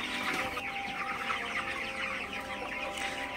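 Broiler chickens crowded in a poultry shed at night cluck and murmur in a dense, continuous chorus of overlapping calls that never lets up.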